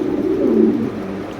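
Pigeons cooing at a pigeon market, a low, rolling coo held for over a second, close and fairly loud with no talk over it.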